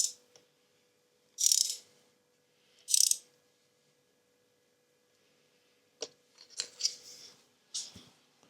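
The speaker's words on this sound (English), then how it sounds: "So I'm just tightening them snug." Ratchet tightening spark plugs on a BMW M140i engine, heard as short separated bursts of dry clicking, two early sets and then a busier cluster of clicks and taps, close and alone with no talk.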